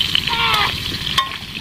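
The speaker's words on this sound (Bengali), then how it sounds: "খুব সুন্দরভাবে লাল লাল করে আলুগুলো ভেজে নেব।" Potatoes frying in oil in a home kitchen, a steady sizzle with brief bursts of spatter, close and moderately loud.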